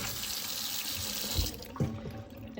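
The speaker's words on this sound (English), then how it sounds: "I usually just rinse out the bowl and then I rinse these and I dump them back in the bowl" Running sink water pours steadily while beans are rinsed, a continuous close hiss with a few soft splashes and knocks.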